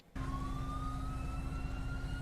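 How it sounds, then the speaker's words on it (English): Ambulance siren in GTA 5 cuts in abruptly and holds a loud, steady wailing tone over a rumbling engine, with no voices. "ambulance is here now"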